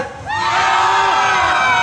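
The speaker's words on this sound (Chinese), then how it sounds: "来，给我们的小猪哥大哥尖叫声一下吧" A crowd at an outdoor electronic music party during a Yimin festival in Xionglin Township screams and cheers, swelling quickly into a loud, sustained roar of high shrieks and whoops.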